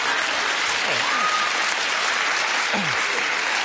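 Loud, dense applause from a TV studio audience, a steady wash of clapping throughout, with faint voices briefly audible underneath.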